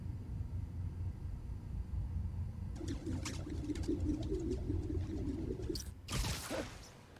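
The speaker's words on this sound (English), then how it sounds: "It is the freaking birds." Pigeons coo softly over a low ambient rumble in Spider-Man: Miles Morales, with a brief whoosh near the end.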